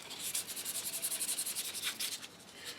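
Steady rhythmic rubbing of sandpaper on wood, back-and-forth strokes repeating quickly and evenly, close and fairly quiet.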